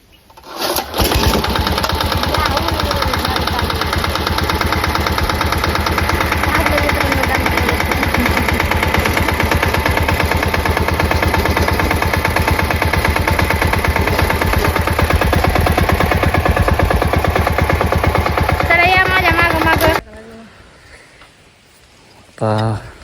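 A diesel tractor engine fires up and settles into a loud, steady running clatter close by for about twenty seconds, then cuts off abruptly, with a brief burst of sound near the end.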